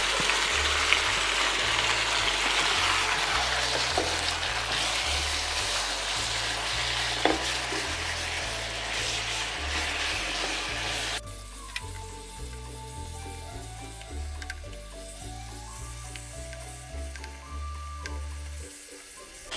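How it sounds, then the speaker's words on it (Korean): Marinated bulgogi beef stir-frying in a hot oiled pan, a steady broadband sizzle with scraping and stirring clatter throughout, a low repeating background tone underneath, the frying thinning out partway through. "이제 양념된 불고기를 여기다가 볶아볼게요"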